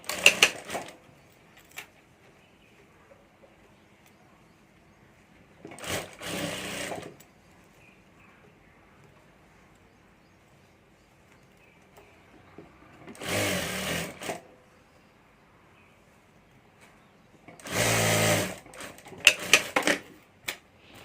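A sewing machine stitches piping on a handbag in four separate bursts of rapid whirring, each lasting one to two seconds, with quiet pauses between them.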